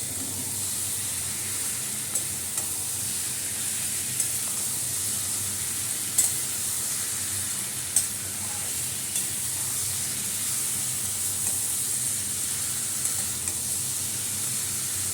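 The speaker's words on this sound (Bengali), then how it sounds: "এই আলুগুলো দিয়ে দিচ্ছি, টুকরো করা আলুগুলো সিদ্ধ করে নিয়েছি।" Boiled potato pieces go into a hot pan and sizzle loudly and continuously for a long stretch, close up, with scattered scrapes and light knocks from stirring and no talking.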